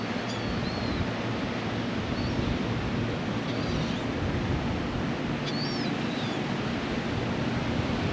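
Ocean surf at Virginia Beach rolls in as a steady, dense wash of broadband noise with wind buffeting the microphone, while faint high bird calls come through now and then.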